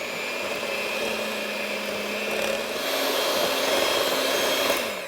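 A stand mixer runs at low speed, beating sugar for Mexican coffee buns, giving a steady, close mechanical whir with a motor hum that swells slightly near the end, with no talk over it.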